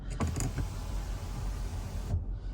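A 2023 Land Rover Defender V8 panoramic sunroof motor runs with a steady whir, a couple of faint clicks near the start, ending with a brief mechanical thunk as the motor stops.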